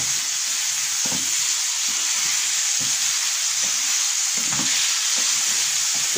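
Chicken frying with spices over a medium flame gives a constant dense sizzle and hiss, with soft irregular stirring knocks underneath, close and fairly loud, and no talking.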